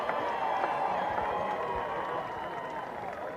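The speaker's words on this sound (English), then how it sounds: "Ladies and gentlemen, a round of applause for the Rivalry Showcase East Tennessee High School All-Star Band." A crowd at a high school all-star band showcase cheers and claps in a steady, continuous wash of whoops and voices, moderately loud throughout.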